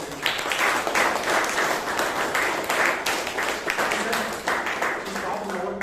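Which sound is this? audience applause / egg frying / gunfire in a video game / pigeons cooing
audience applause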